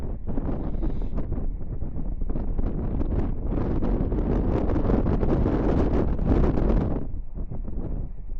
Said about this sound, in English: Now the wind's coming from the west,